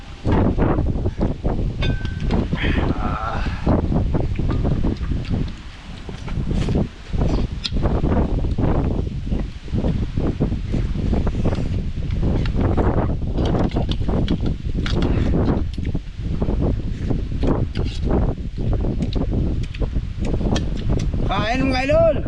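Strong wind gusting steadily outdoors on a farm field during outdoor cooking, a loud broadband rush that persists throughout, with people talking over it and occasional rustling.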